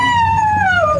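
A dog howling, one long, drawn-out tonal howl that slowly falls in pitch, clear over a low background rumble.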